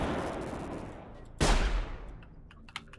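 Gunfire in a hunting-themed video game: a sharp, loud shot bursts out over a rumbling backdrop, then decays, with a softer crack following shortly after.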